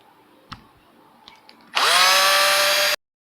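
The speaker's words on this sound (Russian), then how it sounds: "И теперь будем ее аккуратненько высверливать" A power drill boring a marked opening for a USB charger in a Honda Fit panel, a few faint clicks first and then one loud, close whine running about a second before stopping abruptly.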